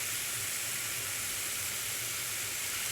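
Chicken strips frying in a skillet over medium heat give a steady, even sizzle and hiss that holds throughout without a break, with no talking over it.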